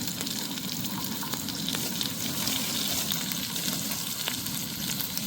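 Cumin seeds and curry leaves fry in hot oil with a dense, even sizzle, near and steady throughout, broken by a few brief crackles and clicks.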